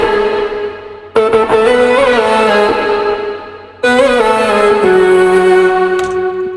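A sung backing vocal run through a heavy effects chain in Logic, two long drawn-out phrases thick with distortion, echo and reverb, loud and upfront with a brief gap between them.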